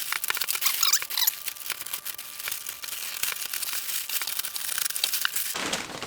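Packaging around a composite RC model jet fuselage (Sebart Mini Avanti EDF/turbine) being cut open and handled: close, continuous crinkling and tearing of plastic and paper, with small scratchy rustles and no voices.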